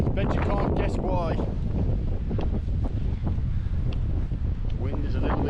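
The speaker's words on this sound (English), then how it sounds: "The wind is a little bit insane." Strong gusting wind buffets the microphone at a wild camping spot in the Lake District, a loud, continuous roaring rumble that never lets up, with a voice faintly audible underneath.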